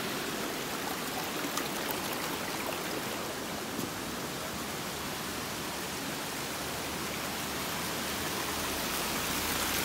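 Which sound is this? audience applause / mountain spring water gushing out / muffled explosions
mountain spring water gushing out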